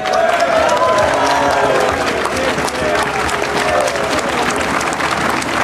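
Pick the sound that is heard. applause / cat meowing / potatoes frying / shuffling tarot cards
applause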